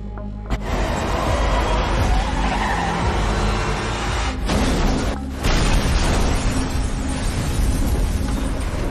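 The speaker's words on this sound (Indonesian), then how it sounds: "Truk itu kemudian oleng lalu terguling dan meledak persis di depan kantor polisi RPD." In a film scene, a truck skids, overturns and explodes in front of a police station, heard as a loud, dense continuous roar of tire screech and crashing rumble, with sharp impacts midway.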